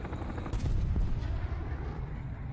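Anti-aircraft guns in the War Thunder game fire in dense rapid bursts over rumbling battle noise, loud and sustained across the clip with a few sharper cracks and no talking.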